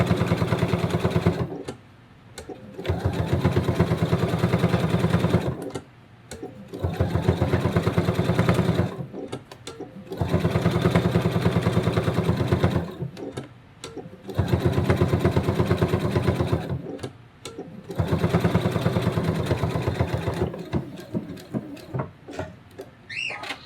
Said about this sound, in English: I'm going to go ahead and sew around this inner circle.